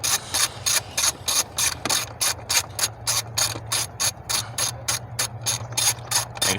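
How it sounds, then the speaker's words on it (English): Fast, even clicking of a ratchet with an 8 mm socket backing out an ignition coil bolt on a 2018 Ford F150 3.5L EcoBoost engine, close and loud in a steady rhythm of short bursts without pause. "So we'll take our 8 millimeter socket, and we'll take this bolt out."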